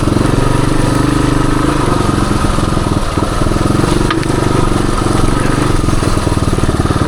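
A 1978 Suzuki DR370 dirt bike rides woodland trails, its engine droning loud and close throughout with a steady thumping rumble and no talk.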